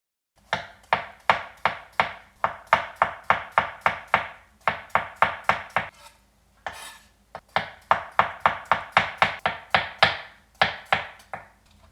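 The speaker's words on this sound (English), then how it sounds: "And then just cut these into thin slices again." Knife slicing a halved cucumber into thin slices on a cutting board, rapid crisp chops in quick bursts with short pauses between runs, close and clear, no talk.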